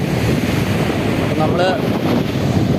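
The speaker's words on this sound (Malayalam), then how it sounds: "ഇത് കണ്ടോ, ഒരുപാട് ഭയങ്കര തിരയാണ്." Large, rough sea waves crash and surge along the shore, a loud continuous roar mixed with gusting wind noise on the microphone across the short stretch.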